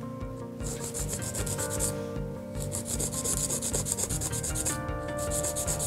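A 100 grit file rubbing over a gel nail, close scratchy strokes in a quick steady rhythm with two brief pauses.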